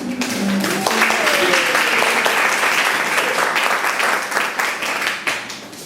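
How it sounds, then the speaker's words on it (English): An audience breaks into loud, sustained applause that tapers off toward the end. "I'd like for you to help me welcome our guest again with a round of applause."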